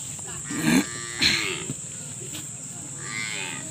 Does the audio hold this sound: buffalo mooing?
yes